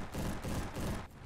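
A G11 rifle in the Roblox shooter Bad Business fires a fast, dense burst of gunfire, loud and close, in rolling pulses that cut off abruptly near the end.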